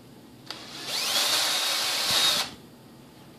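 A micro drill with a small taped bit whines steadily for about a second and a half while boring into a composite model sailplane part, starting and stopping abruptly, close and fairly loud with no talking.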